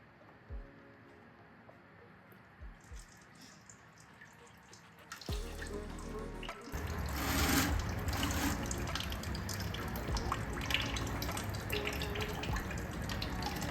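Engine coolant drains from a Honda Civic radiator: a few faint drips, then a loud steady stream of liquid splashing into a container starts partway through and keeps pouring to the end.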